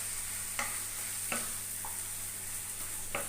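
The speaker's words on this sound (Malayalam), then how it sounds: "നമ്മുടെ ഇറച്ചി മാഗ്നേറ്റ് ചെയ്ത് വെച്ചത് അതിലിടുക. ഇട്ട് നന്നായിട്ട് വഴറ്റി" Marinated chicken sautéing in a pan, a steady low sizzle broken by three or four sharp clicks of a spoon stirring against the pan, with no voices.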